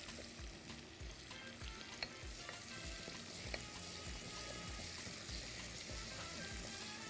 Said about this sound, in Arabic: فانا هاخد هنا بصلايه اشوحها كده في حبه الزيت